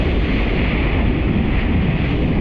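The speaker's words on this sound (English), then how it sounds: "it's so windy" Strong wind roars steadily across the microphone beside the sea on Australia's Great Ocean Road, a constant loud buffeting rush with waves blended underneath and no gaps.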